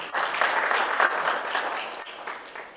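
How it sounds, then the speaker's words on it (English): Participants at a training session in Kampala clap for themselves, a brief, lively round of applause from a small group, fairly close and steady before fading slightly. "So you can commend yourselves and clap for yourselves."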